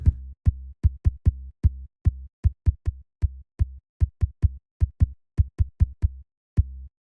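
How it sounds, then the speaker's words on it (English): Rapid electronic percussion hits from the Omnisphere synthesizer in an irregular pattern, short punchy low thumps with clicky attacks, played alone with no voices. "Got some wonderful percussion as well."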